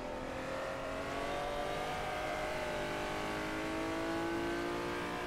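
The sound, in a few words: Honda NSX-R engine in rFactor racing video game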